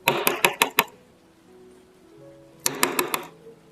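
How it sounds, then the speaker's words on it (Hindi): Two loud bursts of rapid knocking on a house door, about five quick raps each, with a quiet pause between them and a faint low hum underneath. "दरवाजा खटखटा के देखता हूँ।"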